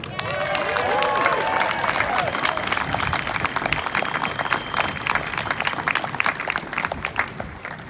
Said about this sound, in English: Please give a big round of applause for Dr. Catherine Walsh.